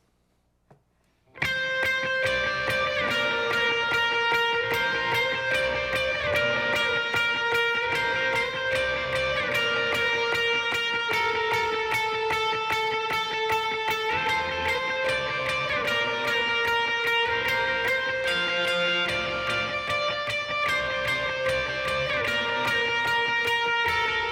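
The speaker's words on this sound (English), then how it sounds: "I'm going to throw on a pretty heavy overdrive and my verb and delay" A heavily overdriven electric guitar plays a steady, sustained chord progression, washed in reverb and echoing delay, loud and continuous without any talking.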